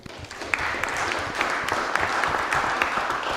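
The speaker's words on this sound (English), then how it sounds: "A little round of applause, please." A small group at a school district board meeting claps steadily, a modest patter of hands at moderate volume, with no cheering.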